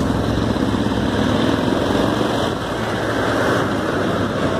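A 2018 limited-edition Royal Enfield Thunderbird 500X motorcycle engine runs steadily close by, a continuous rough mechanical rumble that dips briefly midway.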